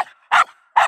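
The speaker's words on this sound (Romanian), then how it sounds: "Latră." A shepherd's sheepdog on a winter transhumance with sheep and donkeys in Romania barks twice, sharp and close, with short quiet gaps, after a fainter yelp at the start.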